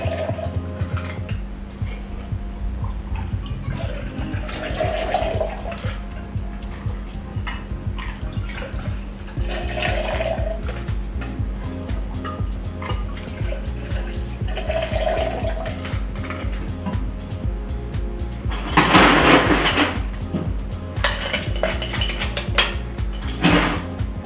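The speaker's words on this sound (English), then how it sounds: "I'm going to throw this between the two shakers" Bloody Mary with ice and tomato juice tossed back and forth between two cocktail shakers, giving repeated clattering metal and ice rattles with sloshing pours at a steady rhythm, close and without talk.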